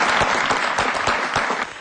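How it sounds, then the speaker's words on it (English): Audience applause for a state governor, a dense, steady wash of clapping at full volume that carries on unbroken with no voices on top. "But that is not what earned this applause."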